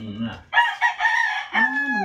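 A rooster crows loudly and close by, a long drawn-out call, with hens clucking softly just before it.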